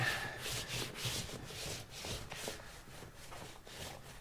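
Leather conditioner rubbed by hand into a jacket, a steady close soft rubbing and swishing with repeated strokes in an even rhythm, heard alone without talk.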